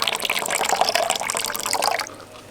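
Cold water pours steadily into a bowl of litchi pulp for a homemade litchi drink, a close, bright splashing that runs about two seconds before tapering to a faint trickle.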